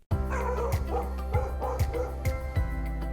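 A black Labrador with a grey muzzle gives rhythmic bow-wow barks mixed with whimpers, close and loud over a steady low hum.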